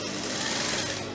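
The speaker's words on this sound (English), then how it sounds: "And then I'm going to start stitching." A sewing machine stitches fabric for a crinoline circle dress, a steady, fast mechanical whirring that runs continuously and close up.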